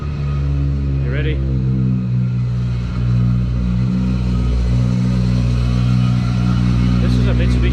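A Mitsubishi Evo fitted with a titanium exhaust runs with a steady, droning engine note and a few slight revs, close and loud throughout.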